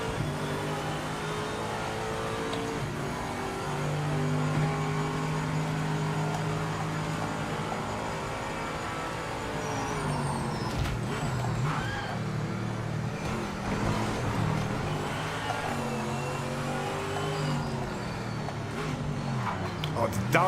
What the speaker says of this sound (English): the downshift sounds incredible